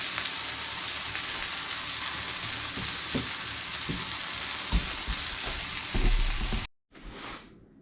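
Sausage sizzles steadily in a frying pan for about six seconds, with occasional louder pops and scrapes, before the sound cuts off abruptly and a brief faint hiss follows.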